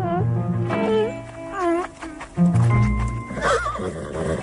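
A horse neighs loudly and repeatedly at close range, long wavering whinnies, with hooves clopping and other horse noises mixed in.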